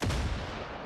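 A grenade explosion in the Far Cry video game, a single heavy low boom that fades in under a second.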